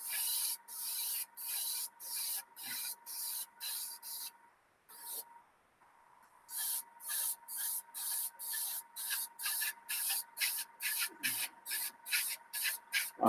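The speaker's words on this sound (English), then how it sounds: "I'll try not to spray too much because obviously I'm not in the spray booth." Paint sprayed from an airbrush onto a model kit outside a spray booth, a series of short, close hissing bursts in a fairly even rhythm with a brief pause midway over a faint steady hum.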